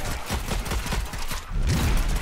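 Rapid bursts of gunfire in the video game Strange Brigade rattle on continuously and loudly, with dense repeated shots and heavier booms in the final second.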